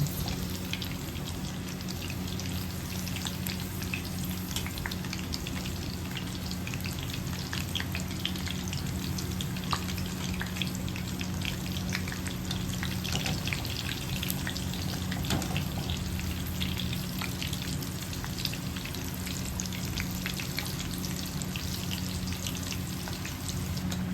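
Green chillies frying in a pan of oil, a continuous close sizzle with scattered crackles and spits that holds evenly throughout.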